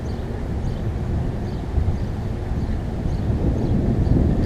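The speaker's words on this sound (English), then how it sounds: "wind's picking up" Steady wind noise buffets the microphone on the Detroit River during a white bass fishing outing, a continuous low rumbling roar that builds slightly toward the end, with no talking.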